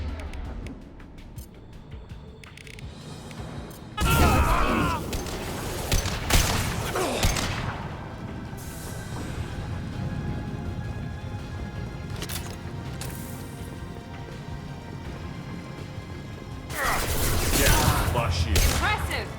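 Mass Effect 2 combat gunfire erupts in loud bursts of volleys, with sporadic shots and clatter in between, then another heavy burst near the end, under voices talking.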